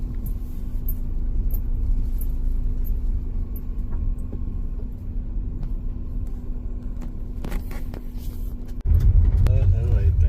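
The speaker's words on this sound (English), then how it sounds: "There's definitely somebody just driving down here." A car drives down a forest road at night without headlights, a steady low engine rumble that persists throughout and swells louder near the end, with faint voices at times.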